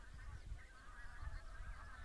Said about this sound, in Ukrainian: Курличуть як.